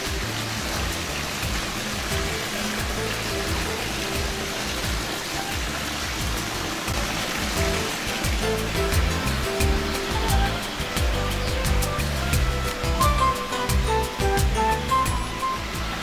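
Water running at the Antoniusquelle spring fountain in Blankenburg, a steady splashing trickle close by, with scattered droplet patters and faint background sounds.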